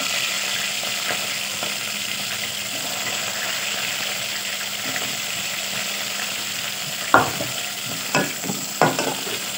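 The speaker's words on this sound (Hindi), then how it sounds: "प्याज अच्छी तरह फ्राई कर" Onions fry in oil for a chicken and cauliflower curry, giving a soft, even sizzle that later gives way to a few sharp stirring scrapes against the pan.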